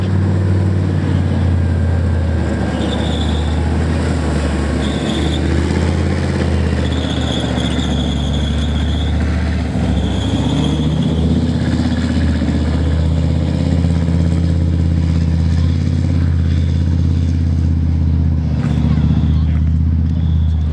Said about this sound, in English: It's got a thumping great big, what's called an MTU diesel engine at the back.